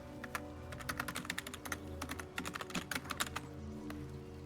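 A cat's paws press a computer keyboard beside a streamer's PC: a close, irregular clatter of key clicks in quick bursts with short pauses over a faint steady hum.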